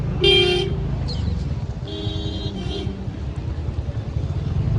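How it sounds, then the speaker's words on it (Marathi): Busy road traffic rumbles steadily while car horns toot in short blasts, one loud and close, then a couple more further off. "गाड्यांची ट्रॉफिक बघा केवढी आहे"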